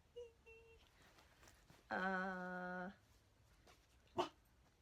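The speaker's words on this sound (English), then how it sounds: "Dog started yelling again." A pet dog gives one drawn-out whining bark indoors, fairly loud and alone in a quiet room, followed a moment later by a short sharp yip.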